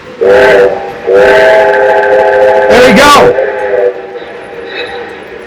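A Lionel model train sounds several long blasts of its horn-like whistle with a hiss, loud and close, over the rumble of the running train, and someone speaks briefly near the end.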